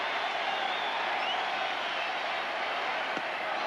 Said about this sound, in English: the Baltimore crowd trying to get their ball players up